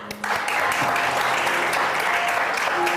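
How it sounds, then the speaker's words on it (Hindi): Studio audience applause at a Hindi-language variety show, steady dense clapping sustained throughout at close range, with a brief faint voice at the very start. "आइए, बहुत सारी तालियां।"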